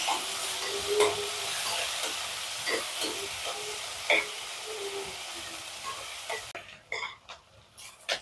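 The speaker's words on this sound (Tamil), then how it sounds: "நல்லா ப்ரௌன் ஆகிற வரைக்கும் வதக்கிக்கணும்" Onions sautéing in a pan for South Indian omelette curry, a steady hissing sizzle with scattered soft stirring knocks, moderately quiet, fading and turning sparser near the end, no speech.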